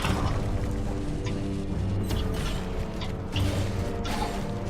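A heavy gate grinds open in the video game Gauntlet, a dense mechanical rumble with creaking and clanking metal layered over continuous game noise and music, steady and fairly loud throughout.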